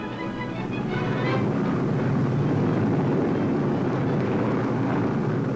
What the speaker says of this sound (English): Taking off for one of the most daring attacks of the war, they roar over the channel